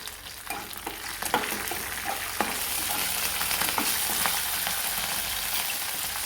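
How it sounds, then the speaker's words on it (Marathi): Green chillies frying in oil in a pan for a phodnichi bhakri breakfast, a loud, dense sizzle with scattered crackles and spatula scrapes that thickens and stays constant close by. "हे सर्व तेलात फ्राय करून घ्यायचं त्यामध्ये आपण हिरवी मिरची टाकून घेणार आहोत"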